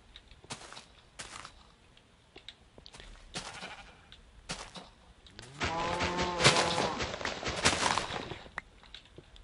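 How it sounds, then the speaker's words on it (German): A sheep bleating in the Minecraft video game, a few short separate bleats followed by a louder, longer run of wavering bleats close by, with scattered clicks and steps between. "Hey, ein Schaf."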